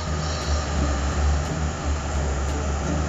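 A low, heavy engine roar with steady rumbling drones throughout, like a helicopter close by, with faint periodic high ticks, from Garry's Mod.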